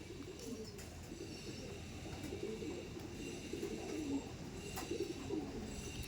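Andhra pigeons, a breeding pair of a male and a female, coo steadily at a pigeon sale in Khardah, giving a low, continuous murmuring with soft repeated swells and faint chirps.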